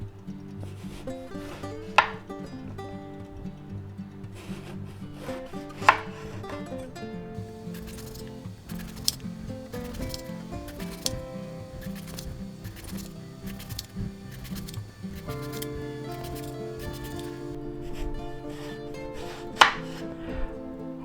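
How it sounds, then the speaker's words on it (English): A knife slices eggplant on a cutting board, giving a string of soft, evenly paced cuts with a few sharper knocks, close and moderately quiet, under a steady background hum. "let's cut these up maybe a 1/2 inch wide here"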